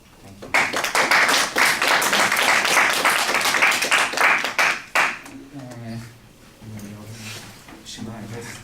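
Audience clapping bursts in loudly for about four seconds of dense, rhythmic claps, then cuts off as a voice begins speaking over faint leftover claps.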